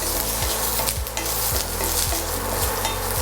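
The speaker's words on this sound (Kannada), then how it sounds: "ಆಯಿಲು ಚೆನ್ನಾಗಿ ಕಾದು ಆನಿಯನ್ ಪೀಸಸ್ ಎಲ್ಲ ಚೆನ್ನಾಗಿ ರೆಡ್ಡಾಗಿ ಕೆಂಪಗೆ ಆಗೋ ಥರ ಚೆನ್ನಾಗಿ ಫ್ರೈ ಮಾಡ್ಕೋಬೇಕು" Onion pieces fry in hot oil for chilli paneer, a loud, continuous dense sizzle with repeated rhythmic scraping strokes of a spatula in the pan, close by, with no one speaking.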